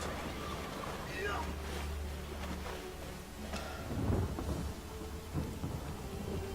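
In the fantasy role-playing game Divinity: Original Sin, a rain scroll summons a thunderstorm: steady hissing rain with low rumbling thunder rolls, while people talk over it.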